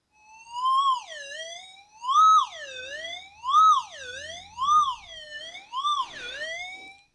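A Minelab SDC 2300 metal detector gives a loud, rising and falling warbling tone over a target, repeating in five or six wavering swells like a siren, alone with no talk.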